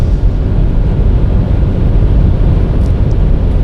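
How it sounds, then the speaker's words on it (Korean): Steady, loud broadband roar of wind rushing past a Lexus NX300h as it speeds up, heard inside the car, with low rumble underneath and no voices. "바람 소리가 제법 크게 들어오고 있습니다."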